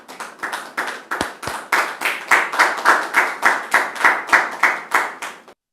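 A talk show audience welcoming a guest with rhythmic clapping: loud, regular bursts of many hands striking together in unison, about two or three per second, ending abruptly.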